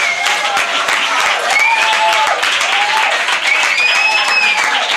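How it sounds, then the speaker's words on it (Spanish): A theater audience at a musical anniversary celebration of El Quijote bursts into sustained applause, a dense continuous roar of clapping with faint whistles rising above it. "Un aplauso para Jesús"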